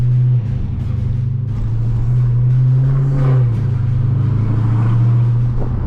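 A loud, deep car exhaust rumbles close by, holding a steady low drone with a brief throttle rise midway.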